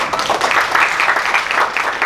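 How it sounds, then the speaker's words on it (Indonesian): Audience applause at a business award presentation in Indonesia, a loud, dense, even patter of many hands clapping together, close and sustained with no talking. "Tepuk tangannya dong."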